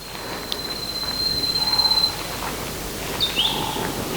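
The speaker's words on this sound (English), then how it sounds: "Just go quiet every now and then so you can listen to the birds." Faint birdsong outdoors during a mat Pilates class: a thin sustained whistle and a brief chirp later, distant and soft over a quiet background, with no talking.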